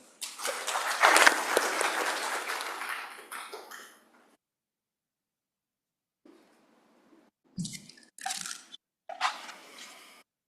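An audience at a textile industry conference's inaugural session applauds to welcome a speaker, a dense burst of clapping lasting about four seconds before dying away, followed by a pause and a few scattered, quieter claps.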